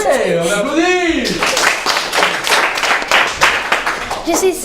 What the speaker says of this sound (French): Ouais, on applaudit.